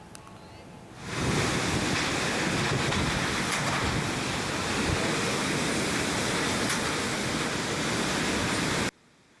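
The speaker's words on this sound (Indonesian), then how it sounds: "rekaman video amatir warga saat angin kencang melanda desa Ngepung" Strong storm wind battering a village in Nganjuk, East Java, roars as a loud, steady broadband rush that surges in after a quiet first second and holds unbroken until it cuts off near the end, with no talk.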